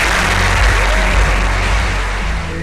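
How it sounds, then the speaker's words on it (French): A crowd at a theme park fans' event at the Jardin d'Acclimatation applauds steadily, a dense, loud wash of clapping that holds throughout and fades slightly at the end. "Applaudissez-les s'il vous plaît."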